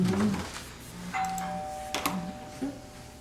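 An electronic doorbell chime rings once with a sustained tone, followed by a few softer knocks and clunks in a quiet indoor room.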